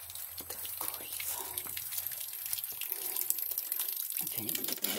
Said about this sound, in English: I can't even get the water turned off good.